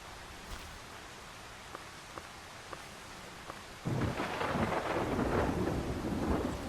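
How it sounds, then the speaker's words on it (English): In the survival building game Solarpunk, a few faint ticks give way to a sudden burst of steady rain with rumbling thunder that holds loud to the end. "It's raining."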